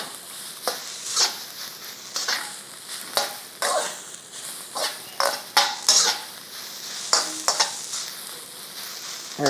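Beef stir-fry sizzles in a hot wok as it is stirred and tossed, a steady frying hiss broken by repeated sharp scraping and clattering strokes of the spatula against the pan.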